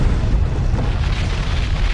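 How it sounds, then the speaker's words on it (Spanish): A massive volcanic eruption blast tearing away a mountain's north face, heard as a continuous, loud, deep rumbling roar with no break across the whole clip. "Una explosión de 24 megatones, más destructiva que la bomba atómica de Hiroshima, que desintegra la cara norte de la montaña"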